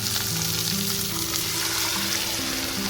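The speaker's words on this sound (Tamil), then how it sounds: "இப்போ வந்து நம்ம தயிர் மிக்சரை வந்து ஆட் பண்ணிக்கலாம்." A curd mixture hits sautéed onion and raw mango in a hot pan, giving a loud, continuous sizzle and frying hiss with light stirring, heard alone close up.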